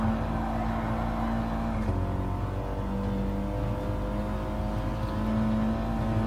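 An Audi TT Gr4 race car in the GT Sport video game accelerates steadily as the throttle is fed in gradually, giving a continuous engine drone with shifting tones and a gear change partway through, with no voices.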